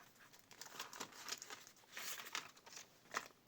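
A plastic packet is handled and opened up close, giving a string of soft, irregular crinkles and crackles in short bursts, quiet and with no talking.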